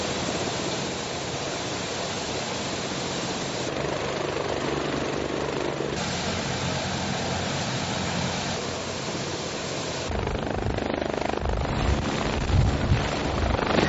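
A helicopter flies overhead in the countryside around Villamanrique de la Condesa, a steady dense rotor and engine roar that holds constant throughout and swells a little toward the end, loud and near.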